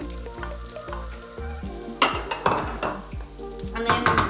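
Eggs are cooked on low heat in a hot pan beside fried rice, sizzling steadily while a utensil scrapes and clinks against the pan, the sizzle growing louder and sharper partway through.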